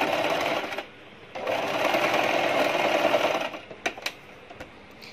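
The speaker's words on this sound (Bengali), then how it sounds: "তো আমি মধ্যেটা সেলাই করে দিচ্ছি, মানে আমি দুইটা ডাবল সেলাই দিয়ে দিচ্ছি" Sewing machine running steady bursts while double-stitching the centre seam of palazzo pants, two long passes separated by a short pause, then a few faint clicks as it stops; close and clear with no talk.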